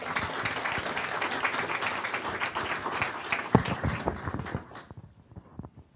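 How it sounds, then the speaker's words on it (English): An audience at a school district board meeting applauds, a steady wash of many hands clapping for several seconds before tapering off at the end. "just applaud them"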